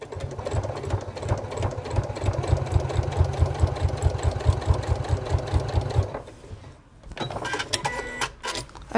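Domestic sewing machine running at stitch length 3 while sewing a fabric tool wallet, a steady close rhythmic whirr for about six seconds before stopping, followed by softer handling and clicking sounds.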